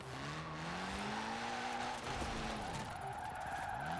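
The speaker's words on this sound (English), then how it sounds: "As you can see, this car is very easy, it's sliding a lot." A car in Forza Horizon 4 drifts and slides under the handbrake, its engine droning steadily with layered harmonic whine and continuous tire noise throughout, loud and close with no pauses.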